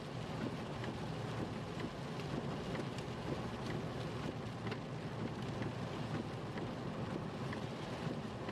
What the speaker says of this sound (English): Seems like we're starting to get in the rain though.